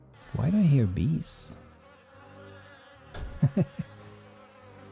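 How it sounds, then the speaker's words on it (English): Bees buzz in the video game Stonehearth, a loud wavering drone near the start that fades, then returns later as a few short buzzing bursts that rise and fall in pitch, with no talk. "There's some weird bee sounds going on, I have no idea why."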